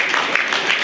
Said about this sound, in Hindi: पहले इन लोगों के लिए तालियां बजा दो कि ये लोग कनेक्टेड हैं